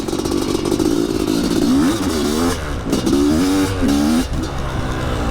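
A 500cc motorcycle accelerates close by, its loud engine rising in pitch, dropping at a gear change, then climbing again before easing off.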